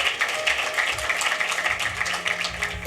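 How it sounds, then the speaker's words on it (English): Audience applause for Patrick at a launch event: a dense, steady wash of clapping from many hands that holds at an even level for the full stretch. "Another round of applause for Patrick."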